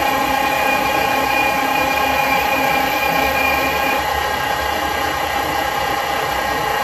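A metal lathe turning at 350 RPM parts off a silver-soldered collet holder piece, giving a steady, continuous mechanical hum with a high tonal whine, even and unbroken throughout, with no talk.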